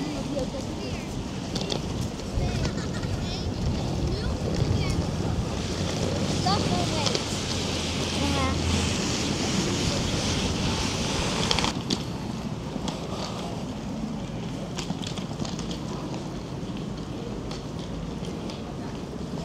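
Wind gusts steadily beside the water in Copenhagen, Denmark, a broad rushing noise that fills the scene while people talk over it.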